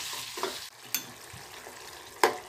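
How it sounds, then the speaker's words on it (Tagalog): Ground pork sautés with tomato in a home pan, giving a soft sizzle broken by a few distinct scrapes and taps of a spatula, the last one louder, with no talking. "Igigisa ko lang po ang giniling."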